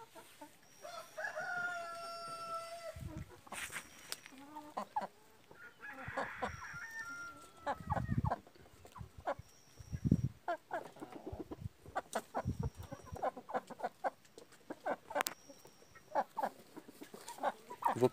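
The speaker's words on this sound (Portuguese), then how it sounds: "a franga que eu falei da raça arrepiada tá aqui junto com os frangos de abate" Frizzle-breed young hens kept alongside broiler chickens cluck and murmur in a coop, with a rooster crowing now and then and scattered knocks and rustles around them.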